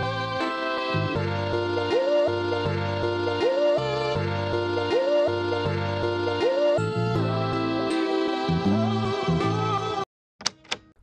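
Two sections of a chopped music sample joined into one segment: a looping bass and chord pattern with recurring pitch bends, shifting into varied chops in the second half, loud and unaccompanied, ending in a few sparse knocks.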